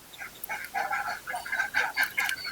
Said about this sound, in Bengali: তো আসো দেখাচ্ছি তো এই সেই আমার কয়লার মুরগিটা